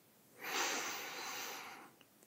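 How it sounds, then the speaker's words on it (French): A single slow, deep inhale through the nose during a guided yoga nidra session, close and soft, rising quickly and holding for over a second before fading into quiet. "inspirez profondément par le nez"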